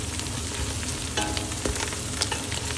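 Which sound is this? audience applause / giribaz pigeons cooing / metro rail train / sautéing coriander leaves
sautéing coriander leaves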